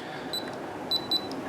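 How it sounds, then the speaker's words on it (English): LaGard safe lock keypad on a Dominator safe giving short, high electronic beeps, two close pairs of clear tones in quick succession over a quiet room background. "You'll get the double beep and the red light will stay on."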